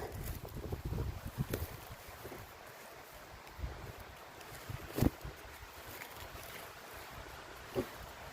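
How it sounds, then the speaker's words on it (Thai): Wind gusts through a forest on a mushroom-foraging trip, a low rumbling roar with buffeting on the microphone, strongest at the start and rising again in a few short bursts, with no voices. "ฟังเสียงลมสิคะเพื่อน ๆถ้าอยากกลับบ้านจะแย่เลยเนี่ย"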